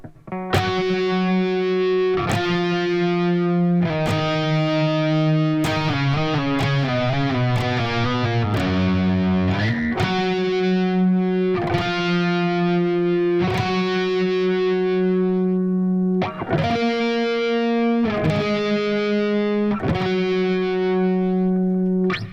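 Electric guitar plays an octave melody overdub with a driven, effected tone, notes ringing out steadily with a brief bending run midway.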